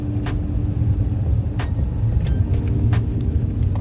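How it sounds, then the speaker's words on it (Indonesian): Tyre rumble on paving blocks fills the cabin of a Hyundai Creta at speed, a steady, dense low roar with faint scattered rattles over it and no voices. "konbloknya pun nggak begitu berasa ya untuk suaranya, suara gesekan bannya"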